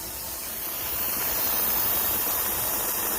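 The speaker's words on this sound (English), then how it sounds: "You can't see the steam well, but it's venting right now." Steady, loud steam hiss from a Nesco smart pressure canner venting continuously at close range, rising slightly then holding constant, with no voices.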